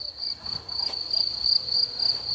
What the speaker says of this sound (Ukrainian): А цвіркуни як цвінькають.